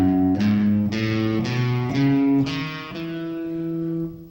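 An electric guitar, played with distortion, runs up a scale across two strings, about eight distinct notes in a steady rhythm, close and clear, the last one ringing out.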